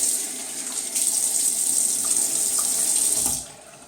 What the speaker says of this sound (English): Okay, so let's wet the face real quick.